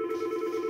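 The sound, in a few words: telephone dialing tones of an incoming phone call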